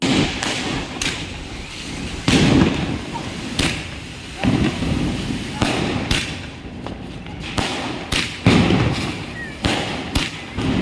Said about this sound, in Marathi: त्यानंतर आम्ही गेलो फटाके फोडण्यासाठी